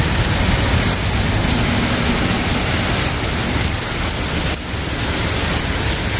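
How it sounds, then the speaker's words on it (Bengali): Heavy rain pours down steadily in Korea, heard from a shelter as a dense, loud, continuous roar of water on surfaces with no voices. "দেখো কি প্রচণ্ড পরিমাণে বৃষ্টিটা নেমে গেল"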